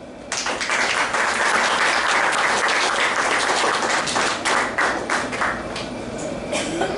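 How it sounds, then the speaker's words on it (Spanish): An audience at a Spiritist anniversary gathering in El Salvador bursts into loud, sustained applause, dense clapping filling the room nearly alone for several seconds before easing slightly. "un fuerte aplauso"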